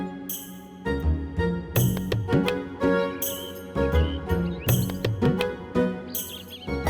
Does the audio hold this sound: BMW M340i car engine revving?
no